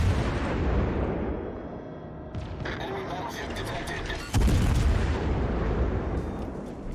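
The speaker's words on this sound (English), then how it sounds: "just start shooting" Heavy naval gunfire from a Des Moines cruiser in World of Warships Legends, a dense series of booming salvos with a sharp, louder blast near the end, rumbling continuously over the game's background din.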